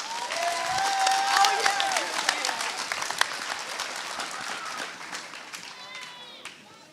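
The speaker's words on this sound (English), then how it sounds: "Let's give the 8th grade class one more round of applause." Audience at a middle school awards and eighth grade promotion ceremony applauds the 8th grade class, loud dense clapping that swells early then gradually fades toward the end, with scattered cheers.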